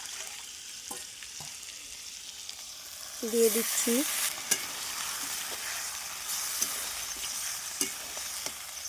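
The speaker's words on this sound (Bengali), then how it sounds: "মেরিনেট করা মাটনটা দিয়ে দিচ্ছি" Marinated mutton hitting golden-brown fried onions in a pan, a steady sizzle with scraping stirs and clinks, swelling louder when the meat goes in, while someone speaks briefly.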